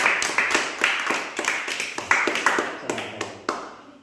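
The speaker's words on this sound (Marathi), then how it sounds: "टाळ्या वाजा सगळे जण" Children clap together in a classroom after a correct answer in a lesson on litre measures, a burst of uneven, overlapping claps and taps that fades out toward the end.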